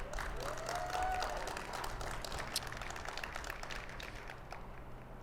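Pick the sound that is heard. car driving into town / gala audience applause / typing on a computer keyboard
gala audience applause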